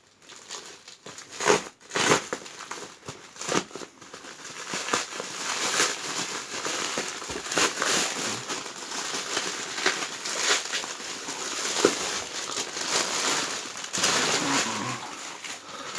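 A parcel from a shop is unwrapped, its taped plastic packaging crinkling and crackling close by in dense, continuous rustling bursts with no talk over it.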